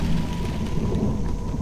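Heavy rain pours steadily in a storm, a dense constant rumble with low thunder underneath, heard alone without voices.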